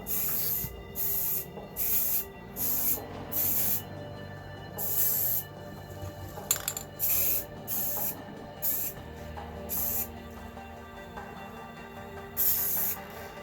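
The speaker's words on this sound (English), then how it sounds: "Then I'm going to give it 3 coats of flat black rust check protective paint." Aerosol can of flat black rust-protective paint spraying onto tailgate assist parts for a Dodge Ram, in a series of short hissing bursts separated by brief pauses, close and fairly loud with no talking.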